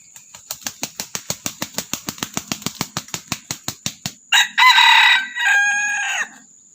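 A rapid series of sharp clucks builds steadily, then a rooster crows loudly and close in a long, strained call.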